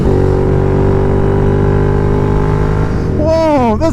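A Royal Enfield Interceptor 650 motorcycle, modified from stock, revs loudly and steadily at close range with a sustained engine drone, then pitch sweeps rise and fall as the throttle is blipped near the end.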